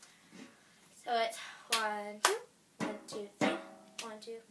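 Cup song rhythm played on a cup, with hits and claps falling in short bursts alongside a voice counting and instructing.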